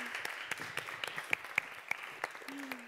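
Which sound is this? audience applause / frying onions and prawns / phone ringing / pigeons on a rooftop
audience applause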